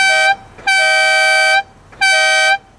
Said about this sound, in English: I was always told this was called a town and country horn.